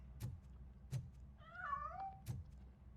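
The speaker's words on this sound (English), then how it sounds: "That cat must be hiding inside." A cat in the video game RoboCop: Rogue City gives a single drawn-out meow, faint and wavering, between three soft thuds or footsteps spaced across the moment.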